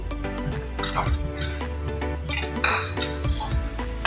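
Onions and tomato puree are stirred in a cooking pot, a spoon clinking and scraping against the metal in quick irregular strokes, close and fairly loud.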